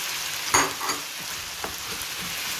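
Sliced onions hit a pan and are stirred while frying for chicken shawarma, giving a soft steady sizzle with a couple of brief scraping stirs, close and fairly quiet.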